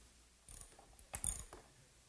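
A ratchet tightens the carriage bolts fastening the nut of a workbench bench screw, giving two short bursts of clicking close by, with quiet pauses before and between.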